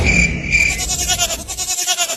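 A cartoon goat bleats in a quick series of wavering, nasal cries, loud and close, with a pulsing rhythm throughout.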